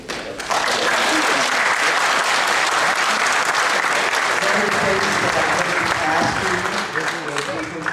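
A crowd applauds steadily for several seconds at a college board of trustees meeting, dense clapping that starts abruptly and stays loud throughout.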